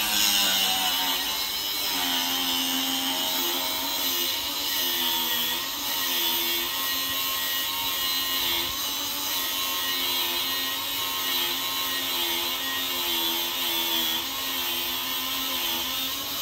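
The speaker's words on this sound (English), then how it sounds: "I got a Milwaukee M18 fuel grinder. I'm gonna cut off a little bit of this." A Milwaukee M18 Fuel cordless angle grinder cuts into metal on a Goodman air handler, giving a loud, steady, high-pitched whine that holds unbroken for about sixteen seconds with no talk over it.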